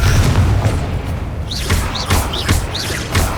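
A Confringo spell bursting repeatedly in the Hogwarts Legacy video game, giving a string of booming blasts with rising whooshes roughly every half second over a steady rumbling game background.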